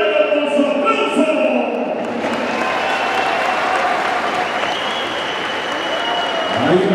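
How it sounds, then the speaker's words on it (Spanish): Crowd at a jaripeo rodeo in a municipal presidents' tournament applauding and cheering loudly and steadily for several seconds, with a broad continuous roar of clapping throughout. "Si usted quiere que se vaya a Cuenero a la final, dígamelo con su aplauso"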